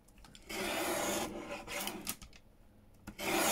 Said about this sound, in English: Trimmer and just trim off one edge.